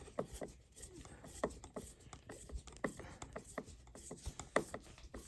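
A screw is tightened into a Vizio D Series 40-inch TV stand, producing faint, steady ratchet-like clicks at a quick regular rhythm under a low background hiss.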